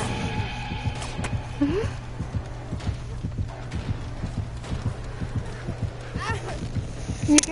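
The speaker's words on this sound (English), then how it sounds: "I hear the heartbeat in the headset" In the Dead by Daylight video game, the warning heartbeat plays as a steady run of quick, low thumps throughout, mixed with other faint in-game noises and a few brief higher tones.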